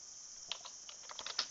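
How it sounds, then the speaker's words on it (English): A few quick keystrokes on a computer keyboard, faint and close, clicking in a short uneven burst against a quiet background. "I'll simply type the year 2011"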